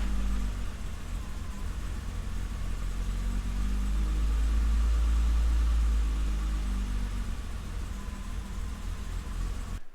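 BMW E30 engine idling unevenly in a budget project car, a loud continuous low rumble with steady hiss, close and unbroken, no voices.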